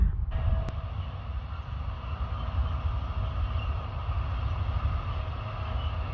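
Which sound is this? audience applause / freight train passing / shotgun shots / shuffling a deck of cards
freight train passing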